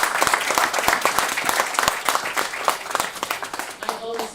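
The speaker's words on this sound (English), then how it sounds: "can we give Ms. James another round of applause, please?" An audience at a health and wellness centre commissioning ceremony applauds, a dense burst of many hands clapping close and loud for a few seconds before it thins out and a voice begins.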